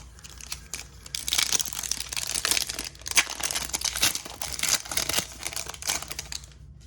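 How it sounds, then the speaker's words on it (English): Trading cards from 2022 Bowman Chrome packs are tossed and shuffled by hand, making dense, close crinkling and flicking sounds in uneven bursts, with no voice. "Just tossing these cards around."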